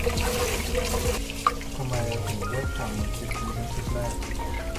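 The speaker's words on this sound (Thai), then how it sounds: "เวลาเราซาวข้าวเนี่ยก็ซาวประมาณ 3-4 ครั้งนะคะ จนกว่าน้ำซาวข้าวเนี่ยมันจะเริ่มใสนะคะ" Japanese rice being washed gently in water, with steady trickling, dripping and sloshing close by as the grains are rinsed, continuous throughout with a soft musical tone beneath.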